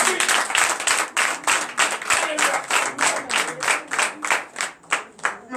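A church congregation at a night deliverance service claps in acclamation, loud rhythmic unison beats at a brisk steady pulse, close and energetic throughout.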